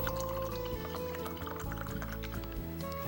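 Homemade almond milk, blended from raw almonds, distilled water and a few dates, pours steadily into a glass with a continuous liquid gurgle and rising fill tone, close and clear throughout.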